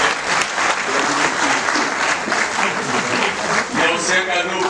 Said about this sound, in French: Posez vos applaudissements.